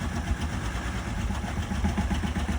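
A steady, rumbling engine of a car with an exhaust issue idles nearby with a low, continuous throb and no other sounds.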